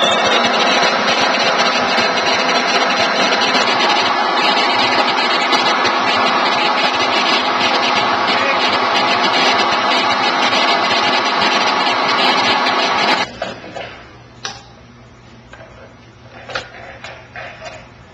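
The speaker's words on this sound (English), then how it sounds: "Here we go with the 120 volt machine." A 120-volt suction machine runs with a loud, steady motor roar for about thirteen seconds, then cuts off, leaving quiet rattles and a faint low hum.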